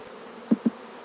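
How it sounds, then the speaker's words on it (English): Honeybees buzz around an open hive box full of workers and drones. A low, faint hum runs throughout, and two brief, louder buzzes pass close by in quick succession. "You can see we've got a lot of confusion and a lot of bees."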